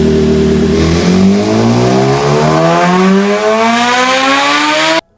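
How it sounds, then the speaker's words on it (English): A loud, high-revving BMW S1000RR superbike engine climbs steadily in pitch through the gears, roaring continuously before cutting off abruptly at the end. "here's a last gen S1000RR so you can get a feel for it"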